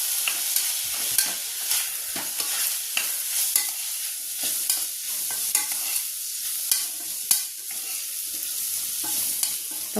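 A spiced beef stew mixture with spicy green chillies sizzles steadily in a pan while a spoon stirs and scrapes it in irregular clinks, close and clear with no talking.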